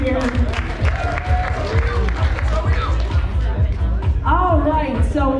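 Convention crowd at a charity auction claps and cheers in a loud, sustained burst, with chatter and shouting voices mixed throughout.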